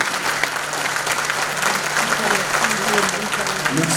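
Sustained audience applause at a national academic prize-giving ceremony, a broad steady roar of many hands in a large hall, with voices faintly audible beneath.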